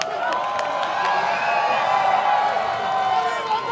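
Wrestling crowd at a World is a Vampire Festival show in Mexico City roaring and chanting for luchador Psycho Clown, a steady, loud wall of massed voices with cheers rising throughout.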